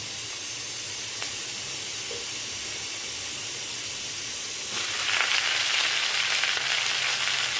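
Garlic, ginger and green chili frying in hot oil, a steady close sizzle that swells abruptly louder and brighter halfway through as more ingredients drop into the pan, with a faint tap before.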